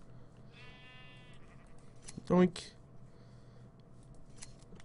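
A video-game sheep gives one short bleat, and a sharp shearing snip follows a moment later, heard under quiet background hum while a person talks.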